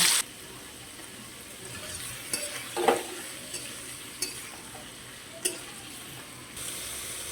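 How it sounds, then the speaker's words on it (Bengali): Prawns with their head shells kept on fry in oil in a wok. A steady sizzle runs throughout, with a few sharp stirring clinks and a louder burst of spattering near the start. "এখানে কড়াইতে তেল দিয়ে দিয়েছি, দিয়ে চিংড়ি মাছগুলো আমি ভেজে নেব।"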